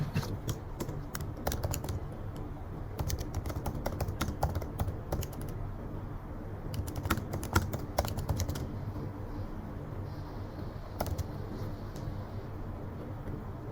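Typing on a computer keyboard, with steady bursts of quiet key clicks over a soft background hum and brief pauses between runs, no talk.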